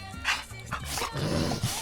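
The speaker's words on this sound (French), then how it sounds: "Et les chiens." Dogs barking in the countryside along the Güejar River in rural Colombia, several sharp barks and yips spread across the moment, fairly close, with faint background murmur.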